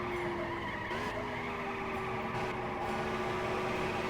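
Race car sliding and skidding through a corner in Indianapolis 500 Evolution, driving the 1964 Trenton 150 with a Novi engine: steady loud engine drone with a whining tire scrub running throughout, with no talking.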